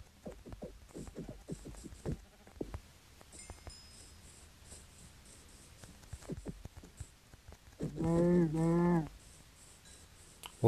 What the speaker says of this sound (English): Ooh, another sheep.